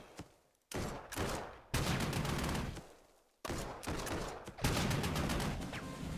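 Tank guns boom in the video game Panzer Corps 2, dense crackling bursts of firing in several loud surges separated by brief drop-offs, with no talk.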